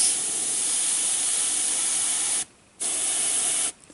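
Airbrush spraying paint onto a glove while painting a Warhammer 40k Rhino tank model, a loud steady hiss of compressed air that cuts out twice briefly before resuming.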